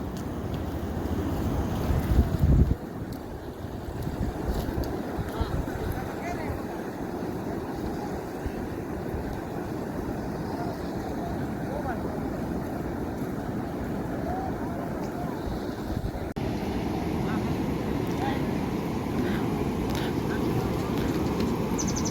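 A flooded Rojki river overflows its banks, water rushing across a road in a steady loud roar mixed with wind buffeting the microphone, while people talk over it throughout.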